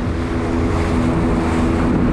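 A boat engine idles steadily near Canada's southernmost point, a constant low droning hum mixed with wind and water noise, close and loud with no talk.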